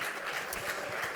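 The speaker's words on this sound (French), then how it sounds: "je crois qu'on peut vraiment applaudir Benjamin" Brief, dense applause fills a rugby awards ceremony hall as the audience honours a player, a steady wash of many hands clapping at once.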